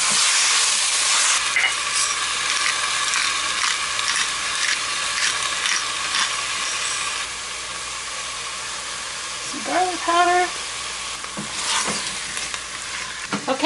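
Seasoned meat for taco soup, with salt, pepper and garlic, sizzles and fries steadily in a pot, a dense continuous hiss with occasional stirring scrapes, close and loud, with no talking.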